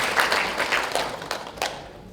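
Audience applause welcoming guests at a reconstruction-versus-remodeling meeting held in a district office hall, a moderate crowd clapping steadily and then tapering to a few scattered claps.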